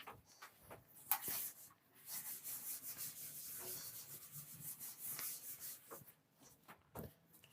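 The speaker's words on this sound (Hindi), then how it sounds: "तो इधर का हम लोग एक बार रब कर दें।" Handwritten chemistry equations rubbed off a board during a class on integrated rate laws: soft, quiet scrubbing strokes in rhythmic back-and-forth bursts, with an occasional knock and no talking.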